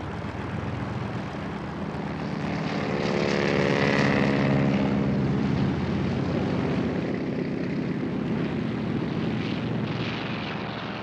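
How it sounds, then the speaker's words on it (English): Propeller engines of Japanese WWII attack aircraft taking off from aircraft carriers, a dense continuous roar that swells toward the middle as the planes pass, then settles into a steady drone. "the Japanese first attack force of 183 aircraft began taking off."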